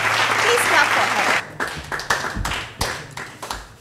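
Applause for a young contestant at a children's quiz contest, a dense burst of clapping that thins after about a second and a half into scattered claps.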